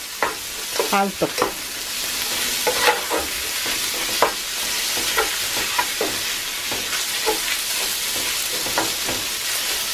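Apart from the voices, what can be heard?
beef browning in a pan over high heat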